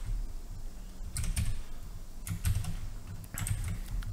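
Python code is typed on a computer keyboard in short bursts of close, clicky keystrokes separated by brief pauses, with no one talking.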